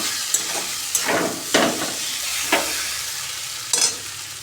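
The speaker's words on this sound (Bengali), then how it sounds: "ভিডিও ভালো মতন করে নাড়াচাড়া করে দেবো এখন দিলাম ভাজা মশলা" Roasted spice mix is stirred in a sizzling kadai while goat meat cooks. Steady frying hiss runs throughout, broken by about six sharp scraping stirs of the spoon, with no talk.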